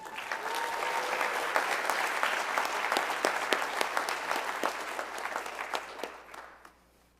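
Audience applause at a spring ROTC commissioning ceremony for a newly commissioned second lieutenant, a full, steady round of clapping that builds and holds, with a few sharp individual claps standing out, then fades away near the end.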